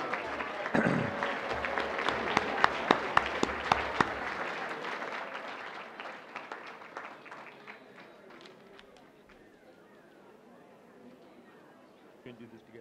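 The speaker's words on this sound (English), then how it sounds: "let's give another round of applause" Audience at a board meeting applauds, the clapping loud at first and then thinning out and fading, with murmured voices and shuffling underneath.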